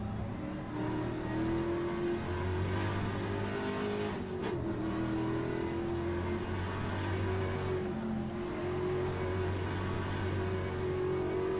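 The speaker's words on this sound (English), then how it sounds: "There's a car approaching." Race car in a Trans Am racing game at Watkins Glen, a loud continuous engine drone with shifting pitch and steady revs as another car closes in, sustained throughout with no speech.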